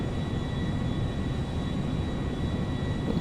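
A Boeing 777 airliner in a GTA 5 mod roars with a steady, broad engine rumble and whine in flight, constant and loud throughout with no talking.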